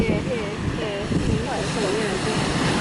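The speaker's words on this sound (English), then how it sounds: "It's extremely windy here." Strong wind roars and buffets the microphone by the sea in Portugal, steady and loud, with faint tonal whines drifting through the gusts.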